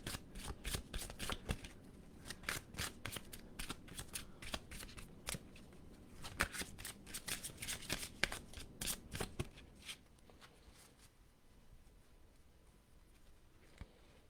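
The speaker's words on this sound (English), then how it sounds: "I'm going to keep shuffling" Quiet, steady tarot card shuffling with rapid riffling flicks for several seconds, then tapering off into faint handling noise near the end.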